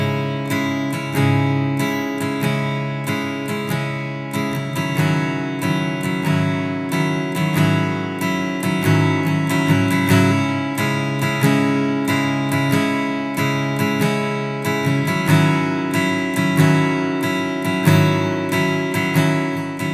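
An acoustic guitar is strummed in a steady rhythm, recorded with one microphone plus a direct input, producing a full, bright and dense sound with regular pick attacks throughout and no voice.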